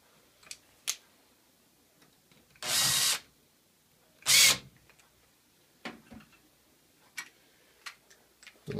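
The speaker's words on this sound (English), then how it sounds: "secure it with a couple of screws." A power drill drives screws to fix a rental lock deadbolt in place, with two short bursts of whirring, scattered ticks and small clicks of parts being handled between them, close and fairly quiet.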